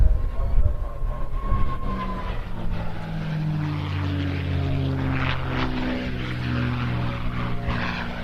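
A Warhorse fighter, a piston-engined warbird, flies past at the Bournemouth Air Festival, a loud rising and falling propeller drone with a shifting engine pitch, steady over the whole pass with faint crowd noise beneath.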